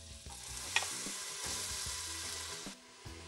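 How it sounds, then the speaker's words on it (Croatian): Onion fries in heated oil in a pan for beef goulash, a continuous soft sizzle with a few light stirring clanks, close and fairly quiet, with no talking. "Na zagrijano ulje dodajemo luk."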